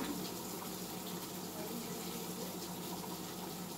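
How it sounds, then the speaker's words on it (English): Water running from a tap in a home kitchen while butter fries on the stove during a morning routine, a steady broadband rush that continues without a break throughout at moderate level. "the water is going"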